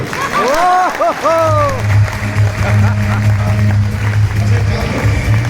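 Hands clap through a seminar audience after someone speaks briefly at the start. A low hum from the room runs under the scattered clapping.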